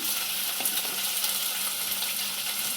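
A masala of turmeric and chilli powder fries in a pan with a dense, constant sizzle, and a faint tap or two of a utensil near the start.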